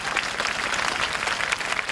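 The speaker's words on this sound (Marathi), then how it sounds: "अस्मिताताईंसाठी टाळ्या वाजवा, माझ्यासाठी नाही." An audience claps at a lively comedy games event, a brief burst of dense, continuous applause from a crowd.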